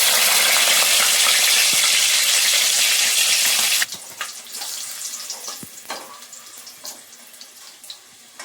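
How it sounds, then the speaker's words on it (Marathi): Whole slit green chillies frying in hot oil for kanda bhaji, a loud, dense, hissing sizzle that drops suddenly to a quieter crackle with occasional pops and utensil clinks. "कांदा भजी सोबत खाण्यासाठी इथे मी अख्ख्या मिरच्या अशा कापून तळून घेतेय."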